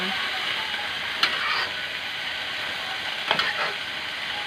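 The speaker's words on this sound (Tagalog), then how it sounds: "Igisan muna natin siya." Lumpia filling sautés in a pan with a steady, close sizzle, broken by two brief stirring scrapes about two seconds apart.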